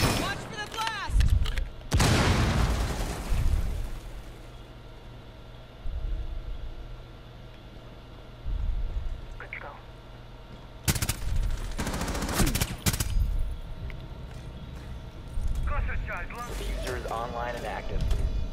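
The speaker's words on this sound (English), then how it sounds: "Watch for the blast." Explosive blasts and gunfire in Rainbow Six Siege: a loud broadband burst early on, then a sharp cluster of shots and booms later, heard alongside game voices and radio chatter.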